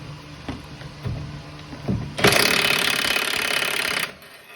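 A burst of impact-wrench hammering about two seconds long, loud and close, loosens a tie rod nut on the steering of a Chevy OBS truck, after some clanks of tools.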